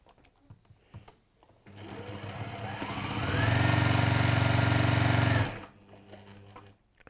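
A sewing machine runs steadily for a few seconds as it stitches fabric, loud and close, with a fast even mechanical whir between quieter handling noises before and after.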